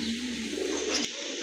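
A pigeon coos softly and close at a pigeon farm, a short low rolling call that stops abruptly, with a faint chirp in the background.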